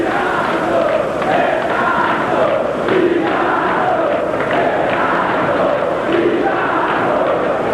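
A football stadium crowd roars in celebration during a 1991 Vasco versus Botafogo match, a dense, sustained wall of chanting and cheering voices with rolling surges and no let-up.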